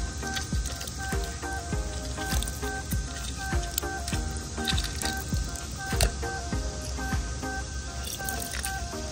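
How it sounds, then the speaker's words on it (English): Lemon juice squeezed by hand onto cleaned tilapia in a home kitchen, with soft wet squishing and scattered drips over a steady background hum. "I'll squeeze some lemon juice."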